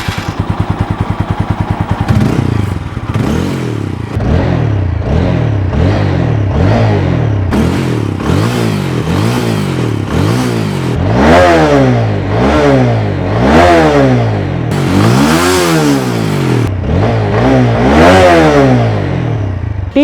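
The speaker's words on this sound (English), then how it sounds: "The dual barrel exhaust not only looks very good, it also sounds great like this." A TVS Apache 200 motorcycle with a dual barrel exhaust revs repeatedly, each throttle blip rising and falling in quick succession, loud and close, with a deep burbling exhaust note between revs.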